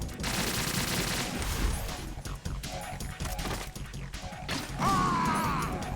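Rapid bursts of gunfire and crashing impacts in a busy Metal Gear Solid 2 battle, with a whooshing projectile sound near the end.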